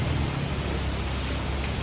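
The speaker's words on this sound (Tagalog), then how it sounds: "Umuulan eh." Steady rain falls in an outdoor eating spot in Makati, a continuous broadband hiss with low rumble underneath and no voices.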